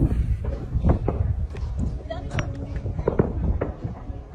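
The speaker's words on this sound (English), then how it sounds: "Neighborhood fireworks." Fireworks pop and crackle in a rapid irregular series of sharp bangs, with voices murmuring underneath throughout.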